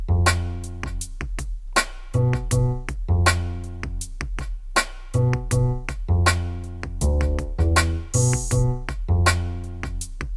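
A basic eight-bar loop built in NI Maschine 2 plays alone: punchy drum hits with a steady groove under layered tonal synth and bass parts, with a couple of brief breaks where the beat drops out.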